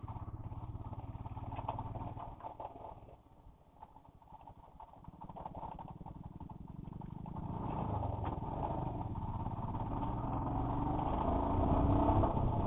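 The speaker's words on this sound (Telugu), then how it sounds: "బైక్ టెస్ట్ చేస్తున్నాడు అనుకుంటా." An RS 457 motorcycle idles and revs nearby as it is tested on the street, a continuous engine drone with rattly texture that grows louder toward the end.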